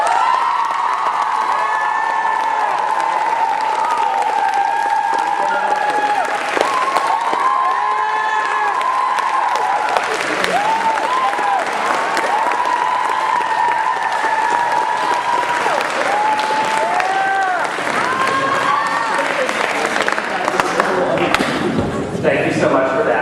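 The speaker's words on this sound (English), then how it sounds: "So if we could please give her an extra round of applause." Sustained audience applause and cheering fill a school awards night, with clapping, whoops and shouts from the crowd running throughout, loud and continuous, with some voices over the clapping.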